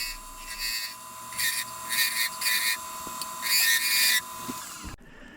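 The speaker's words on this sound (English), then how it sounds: "We'll switch over to the negative rake." An epoxy resin pen blank spins on a lathe while a negative rake scraper cuts it. A steady motor hum runs under several intermittent high, scraping cutting bursts, and then it cuts off near the end.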